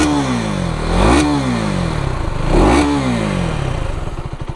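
A KTM Duke 250 Gen 3 motorcycle exhaust revs twice, rising to two loud peaks and falling back to a steady, throbbing idle, close by and with no voices.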